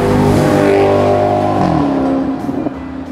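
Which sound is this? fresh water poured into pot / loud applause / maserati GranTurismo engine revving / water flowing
maserati GranTurismo engine revving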